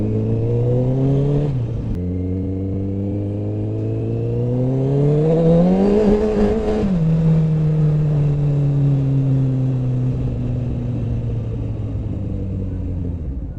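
A Honda CBR 1000RR SP sportbike on urban streets with slightly cold tires accelerates hard, its engine droning steadily and then rising sharply in pitch to a loud peak before easing back to a sustained lower hum, with no talking.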